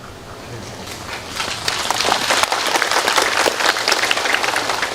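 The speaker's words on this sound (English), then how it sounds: "Why are you clapping?" Audience clapping at a dharma talk, the applause starting moderate and swelling louder and denser after the first second, a sustained crowd patter with no talk.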